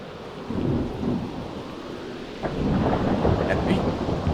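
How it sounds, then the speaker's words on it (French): A thunderstorm with rain, a steady rain hiss under low rolling rumbles of thunder that swell and fade, building louder in the second half, with a few brighter crackles near the end. "ça commence à se transformer en tempête"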